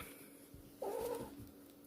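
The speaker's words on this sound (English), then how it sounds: "I'm sorry, my cat again." A house cat lets out a single short, faint meow against a quiet indoor background.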